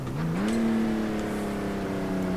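A Honda NSX engine idles in the rFactor racing game, a steady moderate hum that rises slightly in pitch early on and then holds even, with no one talking.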